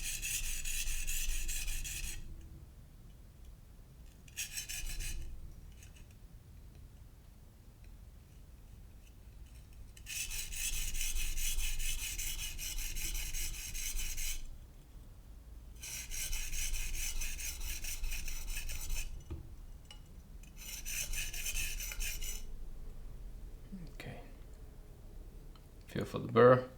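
A knife is sharpened on a whetstone in several passes of rhythmic, close rasping strokes separated by quiet pauses, with a voice speaking softly between passes.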